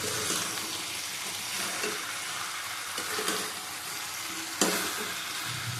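Potato, ridge gourd, pumpkin and prawn curry being stirred in a pan, a continuous close sizzle with repeated scraping strokes of the spoon and a sharper knock near the end, no talking.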